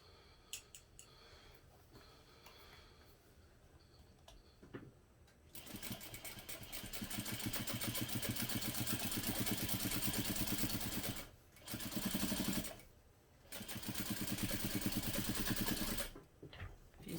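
A sewing machine top stitching a seam at a 1/8 inch allowance on a bag: quiet handling first, then long runs of rapid, even needle stitching broken by two short pauses.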